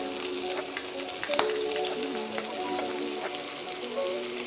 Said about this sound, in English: And the garlic goes in